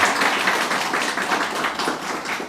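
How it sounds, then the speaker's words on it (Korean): A church congregation at a Korean Presbyterian Sunday service in Mexico claps together, sustained and steady, filling the room for a couple of seconds with no speech. "박수로 해주시기 바랍니다"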